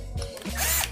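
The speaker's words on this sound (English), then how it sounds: "We have a deburring tool, deburring bit." A power drill with a deburring bit briefly whirs as it cleans the edge of a drilled hole, short and fairly quiet.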